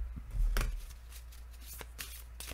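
A deck of tarot de Marseille cards is shuffled by hand close up, giving a brief riffle burst followed by softer flicks and taps, with no speech.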